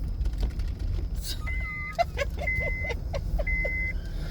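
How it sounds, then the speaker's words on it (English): A car's seatbelt warning chime repeats in even electronic tones over a low engine rumble, with a few muffled knocks and faint speech-like sounds. "You hear my seatbelt my car telling on me."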